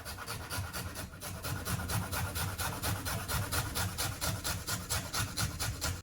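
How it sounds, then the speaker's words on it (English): Garlic cloves grated on a microplane, a rapid series of close, scratchy rasping strokes in a steady back-and-forth rhythm, heard alone. "I'm going to go ahead and grate the garlic as well"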